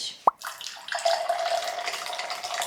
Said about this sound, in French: Je vais rajouter 130 g d'eau que j'ai fait bouillir à 70 degrés.